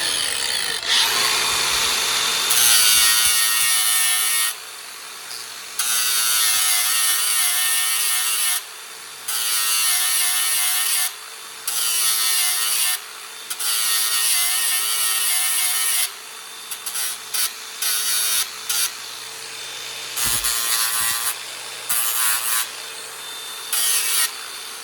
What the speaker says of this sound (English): I just want to grind it until the cut edge meets the factory edge.